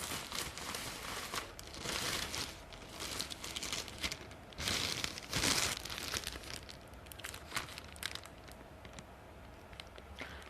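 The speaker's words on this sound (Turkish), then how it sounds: "ürününüzü ağzı kapalı kargo poşetine koyarız" Close, crisp crinkling of a plastic shipping mailer bag being handled, bursts of rustling and crackling that come and go with no talking.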